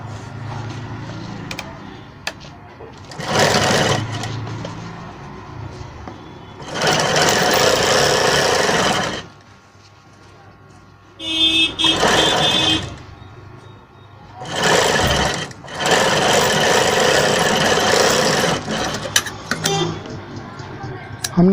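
A sewing machine stitches a blouse in several bursts of rapid mechanical whirring, each a few seconds long, separated by quiet pauses in which a person speaks.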